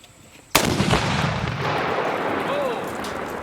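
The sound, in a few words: rifle shot hitting Tannerite, exploding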